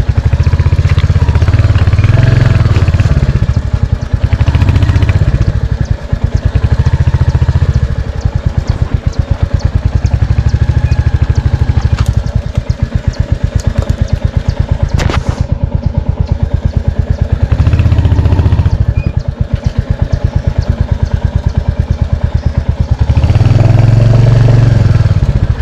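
A Royal Enfield Hunter 350 thumps along a rough, broken off-road track, engine loud and close, rising and falling with throttle blips and chassis clatter throughout, and no talking.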